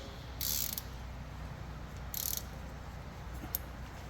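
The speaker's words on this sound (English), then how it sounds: "now we're going to tighten the bolts" A ratchet tightens brake bolts on a car, giving two short bursts of rapid clicking and one brief final click against a quiet background hum.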